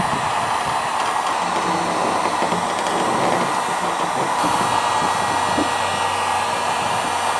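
A heat gun blows steadily while heating an old faded decal on a Ford tailgate, a constant loud, airy fan hiss and hum with no talking throughout.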